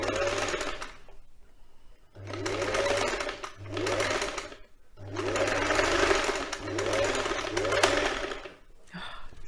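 A sewing machine stitching a silk quilt cover, running in four or five steady whirring bursts of a second or two each, with short stops between them.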